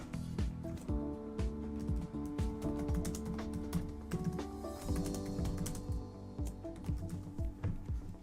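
Rapid, close clicking of keys on a computer keyboard as a name is typed, a steady stream of sharp taps over a faint tonal hum.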